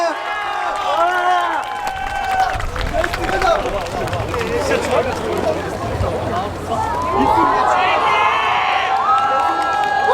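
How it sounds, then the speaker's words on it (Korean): A youth-night festival concert crowd for a K-pop singer cheers loudly, with high shrieks and shouting layered over clapping, dense and sustained close by, swelling again toward the end. "박수 부탁드립니다."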